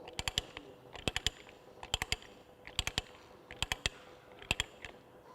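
A plumbing pipe is threaded with a die, producing quiet, close ratcheting clicks in rhythmic clusters of two to four, repeating about once a second.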